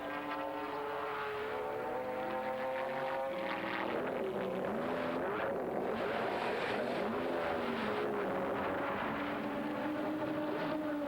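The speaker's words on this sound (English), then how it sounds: "Steve Soper jumping into the car and back out onto the circuit for the number 8 car." A GT race car leaves the pits at Silverstone during a wet 1997 FIA GT Championship round, its engine note climbing and shifting through gears in a sustained loud drone, heard without talk.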